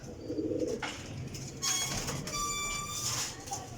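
Pigeons kept as high-flying birds, a Teddy and Sialkoti cross, coo nearby in a brief low murmur near the start, followed by mixed background noise and a steady rumble.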